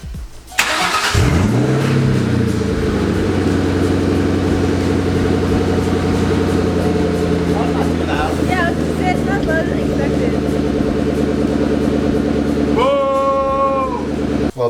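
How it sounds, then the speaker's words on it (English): A Ford Mustang Mach 1 V8 with its exhaust removed starts up and then idles loudly and steadily, with a deep, raw rumble. A few blips of revving come near the end, and voices talk faintly over the engine. "I'm just gonna go ahead and turn it on just to hear it with no exhaust"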